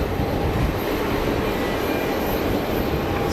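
Airbus A220-100 airliner taxiing at Geneva Airport, a steady loud engine roar and broad rumble that holds evenly throughout with no voices.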